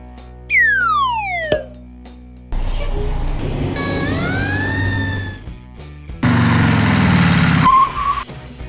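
Cartoon-style monster fire truck siren from a children's vehicle-sounds game: sweeping wails and whistle-like tones in several separate bursts, loud and clear with no talking over them.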